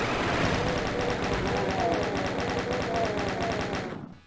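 Chaingun in the game Doom firing a rapid, even burst of shots that runs unbroken for about four seconds before cutting off, loud and mechanical.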